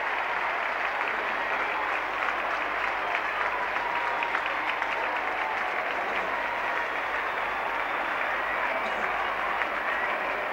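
A large football crowd at the 1968 VFL Grand Final, Carlton versus Essendon, keeps up a steady roar of cheering and applause for Carlton coach Ron Barassi, dense and unbroken throughout with no clear voice standing out.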